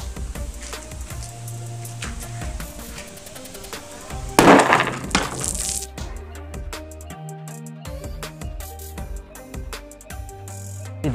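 A homemade water-bottle bomb bursts with a sharp, loud crack midway through, set against a busy, layered background of sound before and after.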